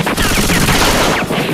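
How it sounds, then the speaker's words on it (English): Rapid, loud gunfire in a dark downtown setting in a superhero game, a dense continuous burst of shots close by that fills the whole moment with no talk over it. "I hear gunfire."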